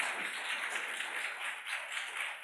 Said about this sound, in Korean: 예, 큰 박수 부탁드립니다.